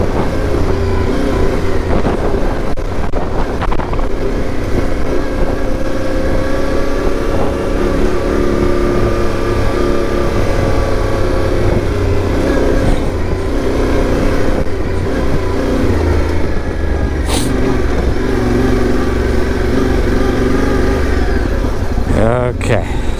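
A motorcycle engine drones steadily while being ridden off-road on an easy dirt trail at Acton, holding a continuous mid-level rumble with slight rises and dips in throttle throughout.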